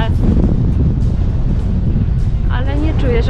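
Strong headwind buffets the microphone with a constant low roar during a bike ride downhill, and a voice comes through faintly under it.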